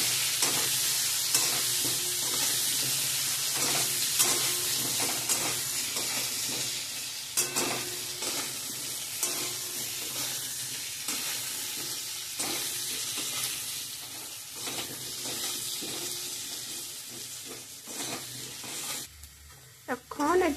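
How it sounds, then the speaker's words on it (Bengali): Potato pieces fry in oil with turmeric and salt, a continuous close sizzle with repeated scraping and stirring strokes throughout, a voice briefly speaking near the end. "আলুগুলো লাড়িয়ে নেব যতক্ষণ এগুলো ভাজানো হয়ে যায়।"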